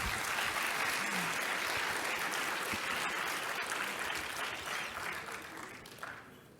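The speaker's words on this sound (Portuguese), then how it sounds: "Assim que um aplauso a todos vocês." Workshop audience applauding at the close of an agile methodologies session for small businesses, a dense steady patter of many hands clapping for several seconds before gradually thinning and fading out.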